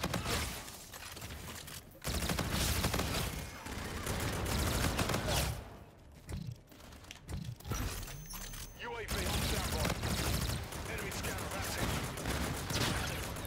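Bursts of automatic gunfire in Call of Duty Infinite Warfare, a tactical team deathmatch on the Precinct map, loud rattling volleys broken by short pauses, with some talk over it.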